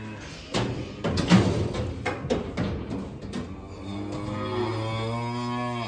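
Calves moo loudly while coming out of a cattle box during weighing on a farm, with several drawn-out calls, thumps and clatter from the box.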